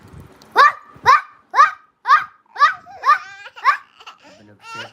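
A voice imitates a dog barking, about eight short, sharp yaps in a steady rhythm, close and fairly loud.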